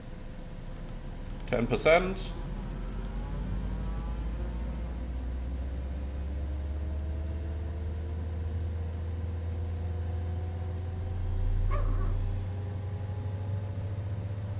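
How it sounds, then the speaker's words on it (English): The right jet engine of a Cessna Citation X starting up in the cockpit, a steady low rumble with a rising whine that swells toward the end, under brief cockpit talk. "then we got a good start on the right-hand engine"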